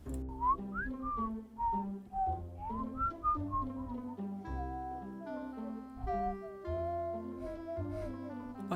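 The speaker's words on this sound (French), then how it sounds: "je sais pas siffler en fait" Someone whistles a wandering melody alone, up close, with sliding notes and short pauses between phrases.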